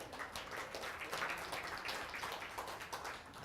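Audience applause at an American Thanksgiving/Christmas turkey dinner event, a steady, dense wash of many hands clapping at moderate distance, fairly faint and continuous throughout without speech.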